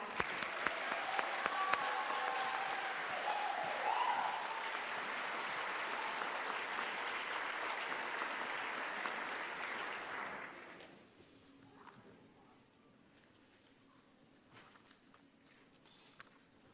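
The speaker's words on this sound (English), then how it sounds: "Let's give everyone a round of applause." A large crowd at a graduation ceremony applauds steadily for about ten seconds, then the clapping fades to scattered claps and quiet room noise.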